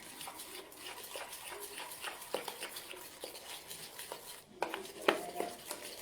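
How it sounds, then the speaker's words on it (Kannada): A spoon beats steamed-cake batter in a bowl, a soft, steady stream of wet stirring and light scraping with occasional sharper clinks against the bowl, close and fairly quiet with no talk. "ಸ್ವಲ್ಪ ಚೆನ್ನಾಗಿ ಬೀಟ್ ಮಾಡಿದ್ರೆ ಅದು ಸಾಫ್ಟ್ ಆ್ಯಂಡ್ ಫ್ಲಫಿ ಥರ ಆಗುತ್ತೆ ಬ್ಯಾಟರ್"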